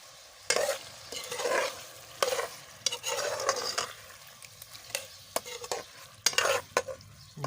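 Liver and tomatoes fry in a pan while a spoon stirs them, with irregular scraping strokes over a soft sizzle, close by and alone.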